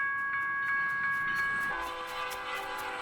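A train passes with a sustained horn blast, tonal notes shifting pitch midway as it goes by, over steady rhythmic clicking of wheels on the rails.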